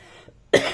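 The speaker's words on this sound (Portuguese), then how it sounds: "sabe que tosse que me deu aqui agora?" A single sharp cough bursts out after a brief quiet, close and loud.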